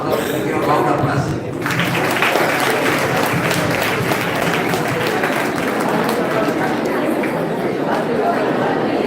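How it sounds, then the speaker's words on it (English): An event audience applauds loudly and continuously after a prize announcement at a Union Budget 2023-24 gathering, with crowd chatter mixed into the clapping. "Give a round of applause."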